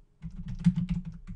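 Someone types briefly on a computer keyboard: a quick, close run of soft key clicks lasting about a second in an otherwise quiet room.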